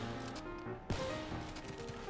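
Sniper rifle hip-fire in Black Ops 3, heard as a single sharp shot about midway through, set against a dense layer of game music and sound effects.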